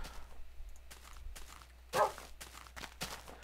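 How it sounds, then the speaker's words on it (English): A dog barks in Minecraft, a single loud woof standing out over quiet blocky footsteps and soft game ambience, with no speech. "Now I got meowing and woofing, and they're both very loud."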